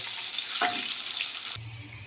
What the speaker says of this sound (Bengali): আমি কাঁকরোলটা ভাজবো।